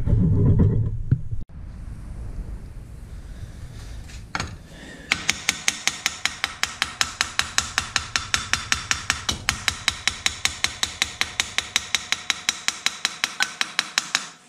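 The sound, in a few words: tapping frozen outboard motor swivel bracket with a hammer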